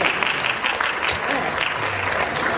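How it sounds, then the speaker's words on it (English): A festival audience at a Toronto Ratha Yatra fashion show claps loudly and continuously, a dense, even wash of applause heard up close. "I think we all deserve a round of applause for that 50 years"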